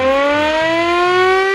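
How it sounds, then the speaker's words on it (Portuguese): A civil defense siren warning of a lethal gas leak wails loudly and steadily, its tone gliding slowly upward over a faint low rumble. "Que trem de sirene é essa"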